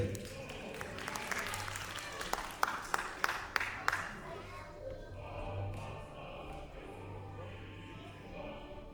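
Applause at a school contest award ceremony for children, a crowd clapping steadily with a few sharp louder claps near the front, fading over several seconds while people talk faintly.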